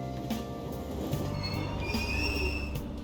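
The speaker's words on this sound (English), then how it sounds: "Train doors are now closing." Train in the video game Persona 5 Royal pulling away from a station platform, with high metallic wheel squeals drifting over a steady low rolling rumble.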